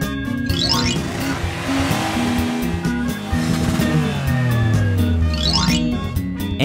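A cartoon car drives past with a loud, continuous engine drone and rising, squealing tire sweeps near the start and end, steady and close throughout.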